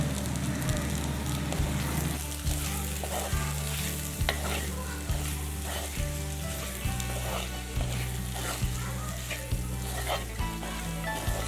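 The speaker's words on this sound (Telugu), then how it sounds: "చివరిలో కొంచెం గరం మసాలా అలాగే కట్ చేసి పెట్టుకున్న కొత్తిమీర వేసుకొని 30 సెకండ్స్ పాటు ఫ్రై చేయాలి" Prawns pepper fry stir-fried with garam masala and chopped coriander in a pan, a constant close sizzle with regular knocking strokes of a spatula against the pan in a steady rhythm, loud and without talk.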